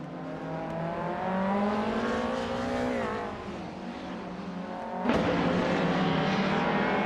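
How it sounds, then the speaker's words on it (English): Engines from a field of race cars, including a 2021 Ford Mustang, whine and shift pitch in a racing video game, with several overlapping revs, a dip as one eases off, then a sharp burst and renewed acceleration. "Bot Sukstakat is driving a 2021 Ford Mustang in 10th place"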